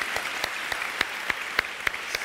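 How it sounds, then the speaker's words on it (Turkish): Studio audience on a Turkish television talk show applauds the saz musicians, a fairly soft, steady patter of clapping with a few sharper, louder claps standing out in a loose rhythm. "Onlara da bir alkış yollayalım buradan."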